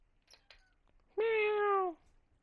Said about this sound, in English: 'Twas the cat.